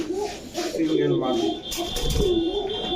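Rajshahi Giribaz pigeons coo softly at a busy pigeon market, low throaty calls mixed in with people talking nearby.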